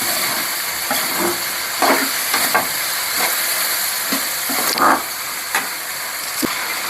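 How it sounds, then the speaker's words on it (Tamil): Chopped tomatoes frying in a pan for garlic pepper kuzhambu, a steady loud hiss and sizzle with occasional stirring scrapes and light knocks close by. "அதுக்கப்புறம் நான் கட் பண்ண தக்காளி இதில் சேர்த்துக்கிறேன்."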